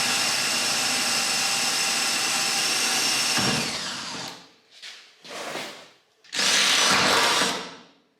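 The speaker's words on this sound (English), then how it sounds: "drill 1/8 inch hole for each screw" A power drill boring 1/8 inch screw holes during a flatbed build on a Ford F250 pickup: a loud sustained whine for several seconds, then three shorter bursts with brief pauses, the last strong before it spins down.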